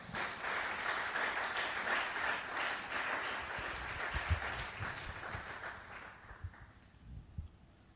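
A church congregation applauding during a sermon, dense rhythmic clapping that fills the room and then thins out into scattered claps.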